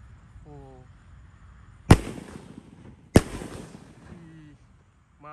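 Roman candle firework firing bazooka-style shots, two sharp loud bangs about a second apart, each trailing off, with brief outdoor sounds and faint voices in between.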